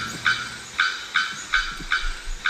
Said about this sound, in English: We're ringing in the new year with bells, specifically bearded bellbirds, the loudest birds in the world.